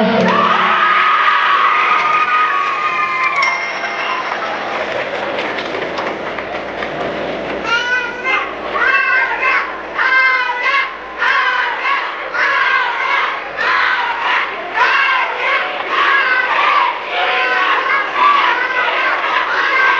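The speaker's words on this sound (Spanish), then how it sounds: "El aplauso para Regina." A parade crowd at a Catrina procession in Erongarícuaro applauds and cheers loudly for one of the costumed Catrinas, with rhythmic clapping and shouting building over about twenty seconds after an opening stretch of music and voices.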